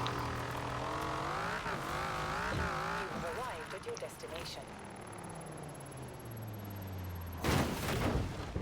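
A Dodge Dart Hemi on a drag tune, driven flat out in fifth gear in Forza Horizon 4, engine drone rising and falling loudly in pitch with a tire or impact burst near the end.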